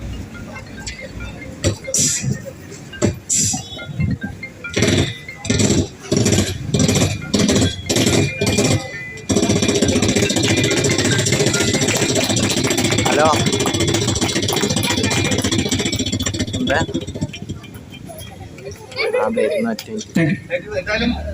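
A voice mimics a Royal Enfield Bullet motorcycle. A rhythmic, chugging thump like a single-cylinder engine kicking over and idling gives way to a loud, sustained rev as if riding off, then settles back to a throbbing beat, close to the microphone.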